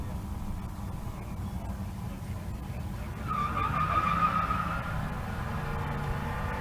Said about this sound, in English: We'll get burnouts going.